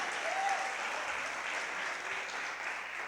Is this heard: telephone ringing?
no